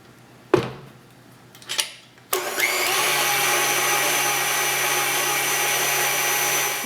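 An electric mixer starts after a couple of sharp knocks and then runs steadily, loud and close, mixing oatmeal raisin cookie dough in a bowl.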